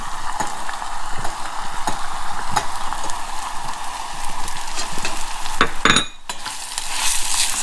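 Green onions sizzle steadily in hot oil for ginger chicken, with repeated scraping strokes of stirring throughout and a brief louder clatter near the end.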